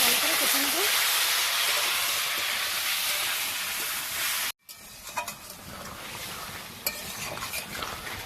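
Spiced potatoes with a fish head frying in a pan in a village kitchen, a steady loud hiss and sizzle that cuts off abruptly, followed by quieter sizzling with occasional clinks.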